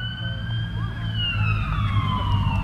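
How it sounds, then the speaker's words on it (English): An emergency vehicle siren wails in long rising and falling sweeps over a low rumble of street traffic, fairly distant and steady for the whole stretch. "Might be an ambulance or a fire truck?"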